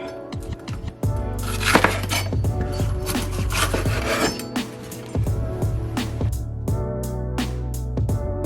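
A knife cuts peppers on a cutting board while a holiday dinner is prepared, with quick irregular knocks and scraping against wood, a few clinks of dishes, all close and fairly loud.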